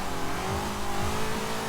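A third-generation Camaro revs in Forza Horizon 4, its engine note sweeping up and down several times over a steady mid-volume rumble.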